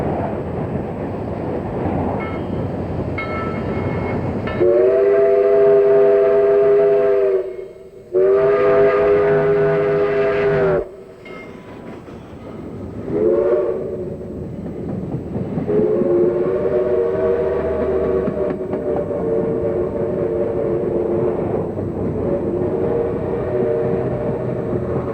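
The Southern Railway 4501 steam excursion locomotive sounds its whistle in loud, harmonic blasts, two long ones, a short one, then a sustained wail, over the rumble of the running train.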